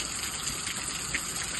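Water overflows from a filled storage tank, pouring and splashing in a constant loud gush with no pauses.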